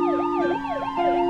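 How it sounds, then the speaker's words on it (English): Several emergency vehicle sirens responding to a major fire, wailing and sweeping up and down over one another with a steady tone underneath, loud and close. "Sirens sure seem loud."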